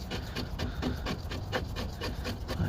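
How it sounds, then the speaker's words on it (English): Tightening a torque mount bolt on a 2010 Nissan Murano, likely with a ratchet, gives a steady run of repeated close rasping clicks and rubbing strokes at an even, quick rhythm, with no talk. "Just tighten it up nice"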